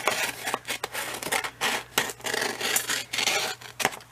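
Scissors snip through a paper envelope, making a run of close, crisp cutting and rasping strokes in an uneven rhythm, with no voices.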